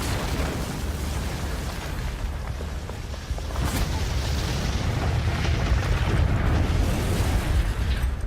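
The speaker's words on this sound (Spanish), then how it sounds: "Una gran explosión envuelve el puente." A large explosion destroys a bridge in a World War II setting, heard as a sustained loud roar of blast and rumbling debris that swells and holds throughout.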